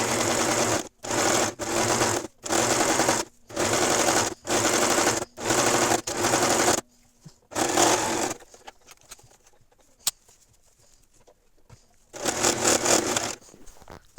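A sewing machine stitching through the centre of a fabric bow, running in repeated loud, rapid bursts with brief pauses, then stopping for quiet handling noises before one more burst.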